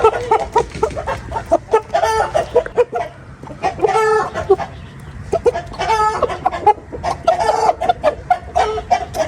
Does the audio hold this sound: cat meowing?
no